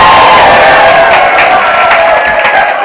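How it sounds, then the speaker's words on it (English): Lively audience at the Conscious Life Expo cheering, whooping and applauding, a dense, loud, sustained roar of many voices and claps filling the hall throughout. "Such a lively crowd."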